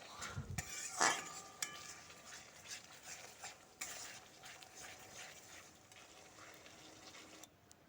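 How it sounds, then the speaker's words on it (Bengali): Turmeric and chili powder being stirred into a chicken and potato curry in a pan: a louder utensil clatter near the start, then faint, soft scraping and a low sizzle throughout. "হলুদ গুঁড়ো দিয়ে দিচ্ছি লঙ্কা গুঁড়ো দিয়ে খুব ভালোভাবে মিশিয়ে নিতে হবে"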